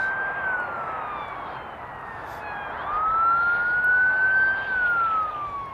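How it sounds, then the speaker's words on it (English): An emergency siren wails steadily at a distance, its pitch sweeping slowly up and down as it passes, swelling louder midway then fading. "Hold on, there's a siren. I'm gonna wait for it to pass."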